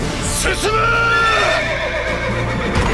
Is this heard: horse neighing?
yes